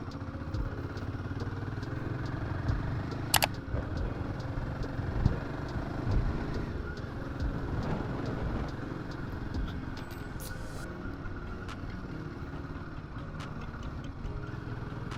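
A Royal Enfield Himalayan 450 motorcycle on an off-road trail near Kailasagiri, its engine running steadily and close throughout, with a sharp knock or clatter partway through.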